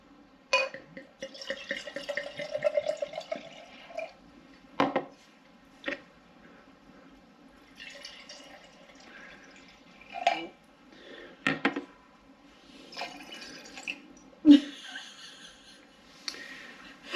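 Pre-chilled drink poured from a small bottle during a birthday toast, a few faint splashes and glugs with clinks of glass between quiet pauses.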